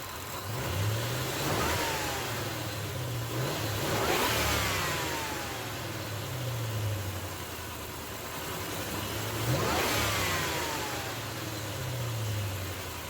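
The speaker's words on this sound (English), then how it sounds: "Sounds like a supercharger, boys." Ford Crown Victoria V8 with an M90 supercharger, throttle pulsed repeatedly: the engine rises and falls in several rev swells over a steady idle, with faint supercharger whine on each rise, close and fairly loud, no voices.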